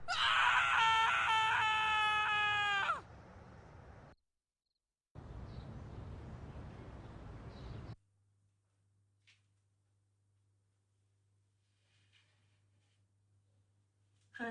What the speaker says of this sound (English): when this guy stop screaming?